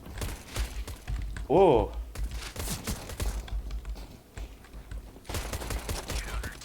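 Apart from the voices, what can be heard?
gunfire in the video game CS:GO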